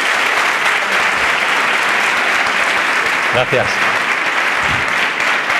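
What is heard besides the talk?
audience applause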